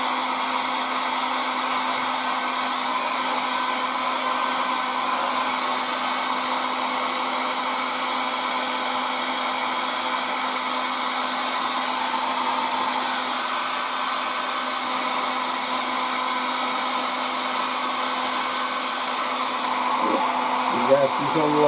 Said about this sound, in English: Now I'm going to start using the hair dryer again